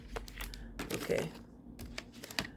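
Light typing on a laptop keyboard, clusters of quick soft key taps with pauses between bursts, close and fairly quiet, with a voice speaking at times around the tapping.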